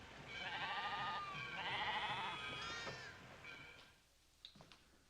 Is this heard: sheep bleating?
yes